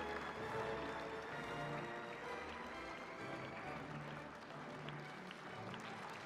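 A steady wash of crowd applause at a music competition closing ceremony, dense and continuous, heard faintly as if from a distance, with no voices standing out.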